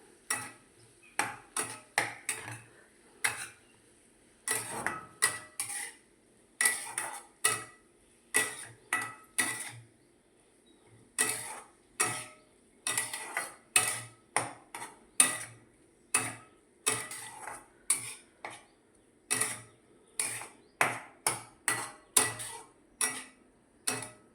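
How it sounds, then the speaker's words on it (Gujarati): A spoon scrapes and clinks steadily in a pan while paneer bhurji with ginger and chili is stirred over low heat, a repeated rhythmic series of sharp metallic taps and scrapes, close and fairly quiet, with no talking. "આ રીતે હલાવતા રહેવાનું નીચે ચોટી ના જાય"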